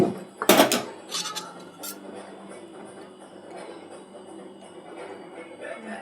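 A metal pan set onto a gas stove gives a sharp clatter near the start, then a few lighter knocks, followed by a quieter hiss from the burner.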